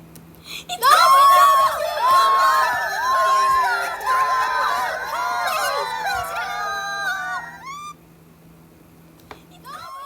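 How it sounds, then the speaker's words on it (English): A crowd of people screaming in the water as the Titanic sinks, recreated in Minecraft: many overlapping high wailing cries rise together, loud and sustained for several seconds, then cut off into near silence. "All passengers in the lifeboats had to listen to the screaming, the horrible screaming."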